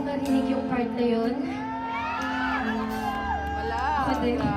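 A live crowd at a Philippines Night concert in Alkhobar, Saudi Arabia screams, whoops and cheers loudly and without a break, with high pitched shrieks rising over a steady roar of voices.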